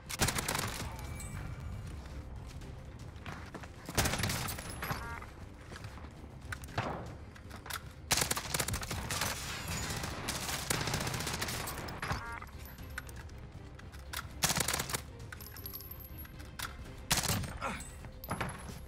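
Gunfire in the video game Warzone, with repeated bursts and volleys of shots, some close and loud and others more distant, carrying on steadily with short lulls between exchanges.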